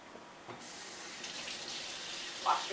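Water runs from a kitchen tap as hands are washed between steps of making browned-butter chocolate chip cookies, a steady, fairly quiet hiss of flow that starts partway in and continues to the end.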